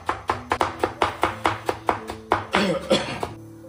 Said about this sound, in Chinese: 给它切丝儿